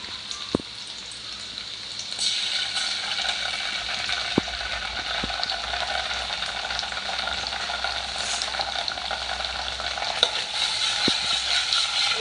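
Onion and ginger paste fry in a pan with a steady crackling sizzle that swells after a couple of seconds, with a few sharp clicks of stirring on top, close and without speech.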